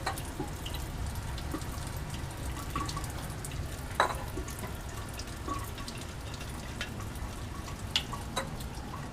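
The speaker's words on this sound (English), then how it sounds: "add 10 milliliters of ether to our separatory funnel" Liquid ether trickles faintly into a glass separatory funnel in a laboratory, a soft continuous pour with small drips and occasional light clinks of glassware.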